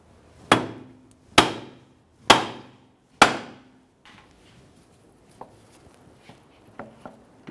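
Four sharp, ringing hammer blows strike a bolt on a 2008-2012 Jeep Liberty drive shaft, evenly spaced and loud, followed by fainter clinks and small metallic taps.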